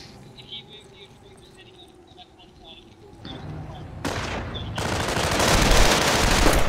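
An MG42 machine gun fires in the Company of Heroes war game amid a wider battle soundscape, with bursts of gunfire swelling into a loud, dense roar that grows steadily toward the end.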